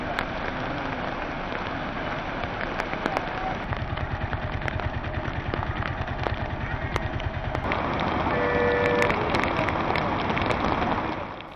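Heavy rain falls in Anantapur in a continuous dense roar of drops that grows slightly louder toward the end, with a low rhythmic rattle in the middle section. No speech is heard.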